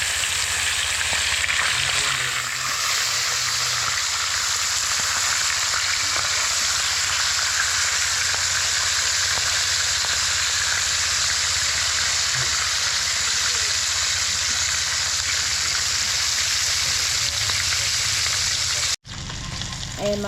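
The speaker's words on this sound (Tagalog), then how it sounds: "Prito na natin ito." Leftover food frying in a pan over a strong flame, a steady loud sizzle and hiss that runs unbroken and close, with talking faintly in the background.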